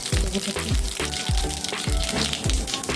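Mustard seeds and cumin hitting hot oil, a bright continuous sizzle with repeated popping crackles and bursts of spluttering, close and fairly loud.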